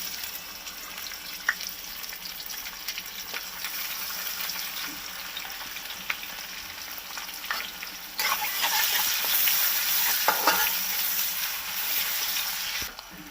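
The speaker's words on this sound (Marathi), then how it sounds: "चांगला कांदा लालसर होऊन द्या" Onion frying in oil with cinnamon, cloves and black pepper for a chicken masala, a constant crackling sizzle that swells louder midway, with occasional scrapes and taps of a spoon.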